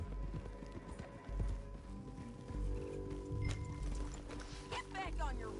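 Horse hooves clip-clopping in a video game, a rhythmic trotting patter mixed with ambient game sounds and low voices talking over it.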